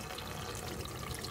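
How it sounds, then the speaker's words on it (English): Hot water runs steadily from a tap, steaming, a constant soft rushing hiss with no pauses. "So we've got red hot water there"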